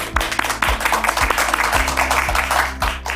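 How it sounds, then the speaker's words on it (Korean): Clapping from an audience welcoming the Yuseong district head at a 2021 lawmaker's report meeting, a dense steady patter over deep rhythmic thumps of background music. "우리 정영래 유성구청장을 박수로 모시겠습니다"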